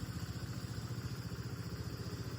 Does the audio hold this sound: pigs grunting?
no